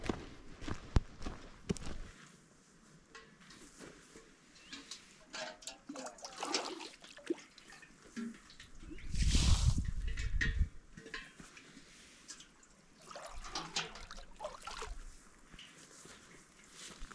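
Soft footsteps scuff along quietly while fetching water in Urho Kekkonen National Park, Lapland, in summer, then water pours or gushes briefly in the middle before the steps continue at low volume.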